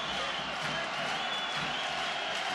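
Arena crowd noise swelling with applause and cheers at an Iran versus Lebanon FIBA Asia Cup 2017 basketball game, a steady, dense roar filling the venue throughout, with no clear speech on top.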